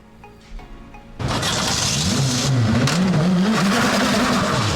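A Praga race car in a Praga Cup race rolls out onto the track, its engine note jumping to a loud, steady revving roar with wavering pitch after quieter idle mechanical sounds.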